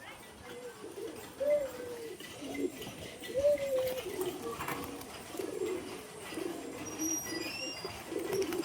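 Matraj male pigeon cooing repeatedly in low rolling phrases, close and clear, with other birds chirping faintly and some background noise.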